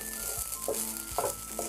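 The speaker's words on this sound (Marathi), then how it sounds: "आता किचलेला नारळ टाकते, आता तुपामध्ये थोडंसं परतून घेऊया" Grated coconut sizzles gently in ghee in a pan, with a steady soft crackle and a few light scraping stirs, heard up close without any talk.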